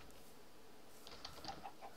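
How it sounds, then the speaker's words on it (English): A video game chicken clucks faintly in a few short, separate chirps late in the moment, set against quiet background ambience with no talk. "Let's see if we can't lure this chicken in."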